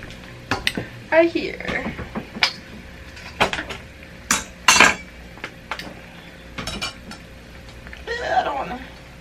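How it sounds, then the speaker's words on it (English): Corn and sausage tipped into a cooking pan, with scattered clinks, scrapes and clatters of utensils and cookware, close and moderately loud, while a voice speaks briefly. "add the corn and sausage into there"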